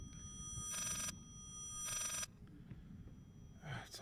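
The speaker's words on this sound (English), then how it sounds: "Is it telephone ringing?" A telephone rings twice in the horror game Layers of Fear, two evenly spaced, moderately loud bursts. A third brief sound comes at the end.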